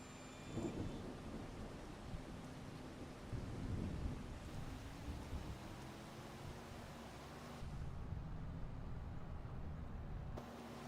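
Steady rain pours down with rolling thunder rumbling low throughout in the video game Farming Simulator 25, a continuous stormy wash with no voices.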